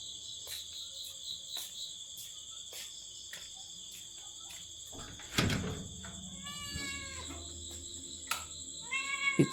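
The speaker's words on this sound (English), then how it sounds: "the only sound left is the chirping of crickets" Crickets chirping at night in rural Vietnam, a steady dense high trill throughout, joined midway by a sudden knock and then cats meowing and caterwauling nearby, with no talk.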